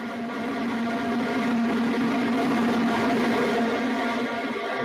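Blue Origin New Shepard booster's BE-3 engine relighting for landing, a steady distant rumbling roar with a sustained tonal hum, heard alone without speech.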